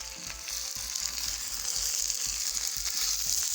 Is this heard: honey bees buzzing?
no